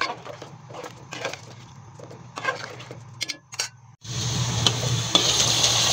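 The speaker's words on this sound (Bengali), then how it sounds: "এখন আমি হচ্ছে গোস্তটাকে টেকে সুন্দর করে কষিয়ে নেব।" Beef being stir-fried kosha-style in a pot: a spoon scrapes and knocks in irregular bursts, then a loud, continuous sizzle takes over for the last couple of seconds.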